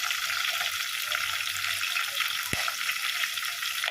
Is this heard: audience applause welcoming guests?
no